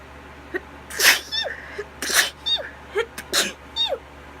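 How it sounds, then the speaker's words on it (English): A person with allergies sneezes in a quick run of sharp, close bursts, several short explosive sneezes and breathy catches spaced irregularly over a few seconds against a quiet room. "I'm gonna sneeze."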